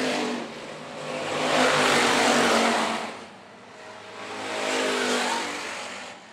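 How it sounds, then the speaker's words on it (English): Hobby stock race cars roar past at a dirt raceway in two swelling waves of engine noise, rising and fading as the pack sweeps by, loud and fairly close. "Has a run on Colt Gibbs as they work down the back straightaway"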